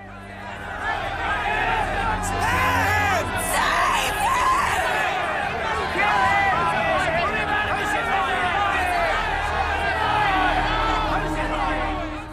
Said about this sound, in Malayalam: ആ ജനക്കൂട്ടം വീണ്ടും ആർത്തു വിളിച്ചു പറഞ്ഞു, ബറാബാസിനെ വിട്ടുതരിക, യേശുവിനെ ക്രൂശിക്കുക എന്ന്